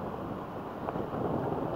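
Wind buffets the microphone on a blustery February evening beside a railway junction, a soft, low, continuous rumble with slight gusting and no voices.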